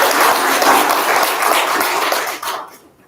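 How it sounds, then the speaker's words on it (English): An audience at a BFA thesis reading applauds, a dense burst of many hands clapping that holds steady for a few seconds before quickly tapering off. "can we get another round of applause for Rose?"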